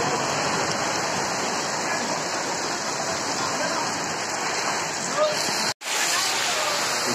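Heavy storm rain pours steadily in a dense, loud hiss during a tornado and flooding in Kaliasem, Kalipare, briefly cutting out near the end before resuming.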